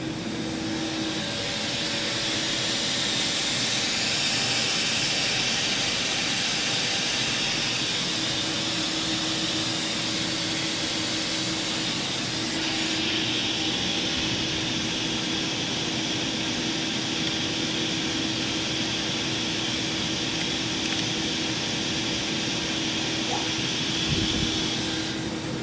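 A Doosan DNM 500 II vertical machining center spindle runs at about 1000 RPM, a steady broadband whir with faint tonal hums that holds near and even for the whole stretch, with no voices.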